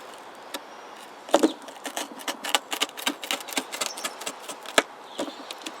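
A knife cuts down the centre of a chili pepper, making a quick series of close, crisp clicks and snaps over about four seconds with no talk.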